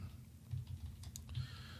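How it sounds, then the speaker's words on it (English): Light tapping of computer keys, a quick irregular run of soft clicks over a low steady hum, close by. "You might hear the tapping of the keys"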